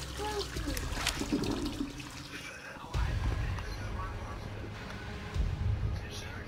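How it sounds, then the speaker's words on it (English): A toilet flushes in a video game with a steady rush of swirling, trickling water that surges twice, and a voice talks over it. "Oh my god, you can flush it."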